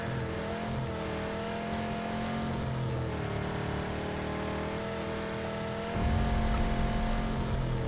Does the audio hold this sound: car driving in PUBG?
yes